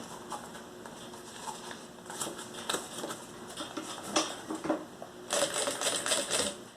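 Sewing machine stitching a mini backpack, giving a rapid rattling run of needle strokes in uneven bursts with short pauses, close up and moderately loud, ending in a faster sustained stretch.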